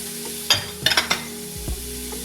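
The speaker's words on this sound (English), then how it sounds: "And give this a little stir." A spoon scrapes and knocks around a pot of homemade cream of tomato soup with red onion, several quick clinks over a faint steady sizzle, close and fairly quiet.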